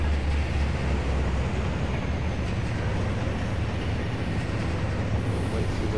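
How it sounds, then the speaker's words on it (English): Train carriages rolling past in the Trainz railway simulator game, a continuous deep rumble with a dense rattling undertone that stays loud and even throughout. "We'll wait for the rest of the carriages to go through"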